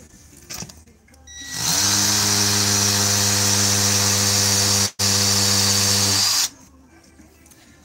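An INGCO hammer drill in impact mode bores into a light concrete block, a loud whining, rattling run of about five seconds with one brief pause, bracketed by quieter handling sounds.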